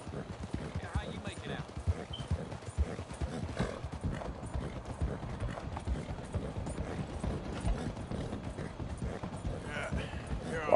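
Rapid, continuous hoofbeats of a galloping horse in Red Dead Redemption 2, with mechanical clicking underneath and a faint whinny.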